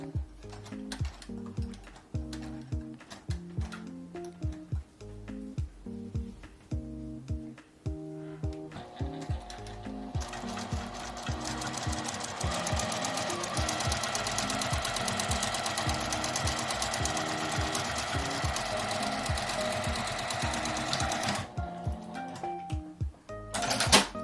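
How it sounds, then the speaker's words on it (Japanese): A hand-turned sewing machine stitches over a zipper at a slow, even pace, its needle knocking in a regular mechanical rhythm, close by with no talk. "ファスナーのところは硬いのでミシンを手で回して送ると良いです。"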